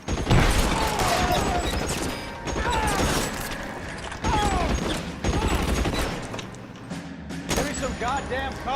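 Machine gun fire in L.A. Noire during a shootout, repeated bursts of sharp shots with mechanical clatter in close succession, mixed with game effects and voices.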